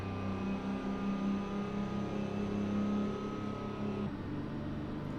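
Steady, droning truck engine with a tonal hum from a Peterbilt 389 in the American Truck Simulator game, running at fairly high RPM, then shifting gear with a change in pitch near the end; no talking.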